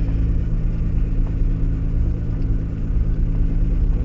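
A Nissan GT-R rolls down a pit lane with its engine at a steady low rumble, a continuous close drone with mild throttle variation and no voices.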